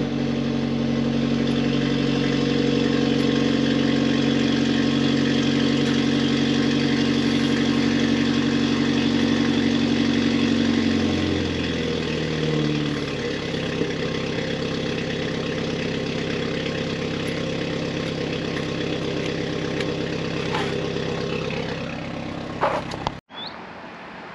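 A BMW car engine idles steadily and loudly at close range, with a low, even drone and a shift in tone partway through before it cuts off near the end; no one speaks.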